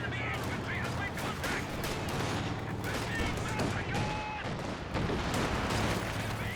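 Sustained machine gun fire and scattered gunshots rattle continuously in a Company of Heroes 2 battle, dense and steady, with a commentator talking over the combat.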